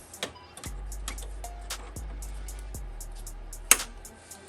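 A socket wrench fitted with a deep-well socket works half-inch bolts while electric fans are fitted in a third-gen 1982-92 Chevy Camaro, giving several short whirring bursts that wind down, with light clicks between them.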